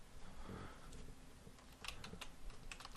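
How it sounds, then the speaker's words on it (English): A short run of faint, close keystrokes on a computer keyboard as a password is typed into a server admin tool, scattered taps over a low background hum. "type in the default password"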